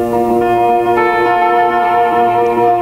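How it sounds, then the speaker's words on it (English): Sustained electric guitar chord played with a regular guitar pick, bright and ringing steadily with no talk. "if you were going to play it with a regular pick that you buy in a guitar store,"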